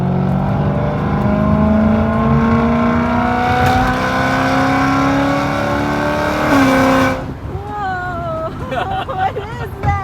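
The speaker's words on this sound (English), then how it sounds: "That's slow revving it at the mid-range." A catless BMW E92 M3 with an X-pipe exhaust is held at mid-range revs, its loud, steady engine drone climbing slowly before cutting off, followed by a few seconds of people talking.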